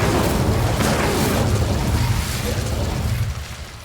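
Incendio fire spell cast in Hogwarts Legacy, a loud, roaring burst of flame that rushes out at full strength and then tapers off over a few seconds.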